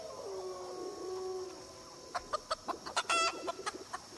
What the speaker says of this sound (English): we'll go to animals, chicken, cockerel, Rhode Island Red.